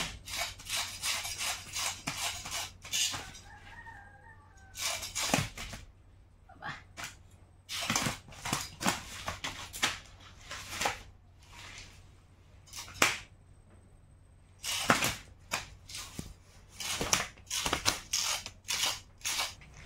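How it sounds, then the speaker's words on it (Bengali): Small pond fish being cut and cleaned by hand, producing sharp scraping and snipping bursts in an irregular rhythm, close and fairly quiet, with gaps between strokes and no talk. "এই মাছটা কাটিয়ে নিতে পারলি আমার মাছ কাটার কাজ কমপ্লিট"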